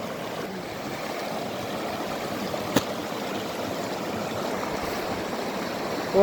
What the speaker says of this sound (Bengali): পানি যাচ্ছে দেখুন